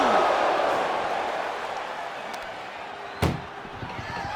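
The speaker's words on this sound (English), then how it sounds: "Trying to at least slam one door shut." A single sharp ambulance door slam lands near the end in the WWE 2K25 wrestling video game, over a crowd murmur and a talking voice.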